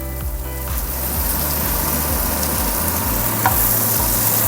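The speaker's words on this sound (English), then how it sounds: "When mushroom be nearly ready, we put onion and start making sauce." Onion and mushrooms fry in a pan with a steady, close sizzle throughout, joined by occasional stirring scrapes and a low rumbling hum underneath; no one speaks.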